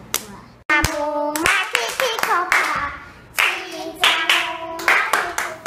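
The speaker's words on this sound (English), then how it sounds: "She is tapping the beat with the chant." A three-year-old girl taps the beat along with a rhythmic children's chant, the light regular taps sounding close and mixed in with the sung or spoken chant voices.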